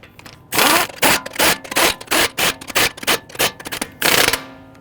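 Lug nuts are spun by hand onto a car wheel on a 2011-2023 Dodge Charger, making a quick series of close, rattling metallic clicks and bursts in an uneven rhythm before stopping.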